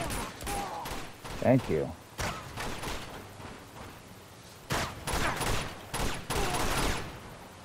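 Gunfire rattles in Uncharted 2: Among Thieves, with repeated bursts and shots cut into short clusters over a quiet game background, while a player briefly speaks.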